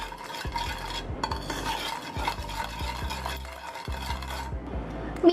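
A seasoning mixture with black pepper being stirred in a bowl, rhythmic close scraping and clinking strokes repeating steadily without talk.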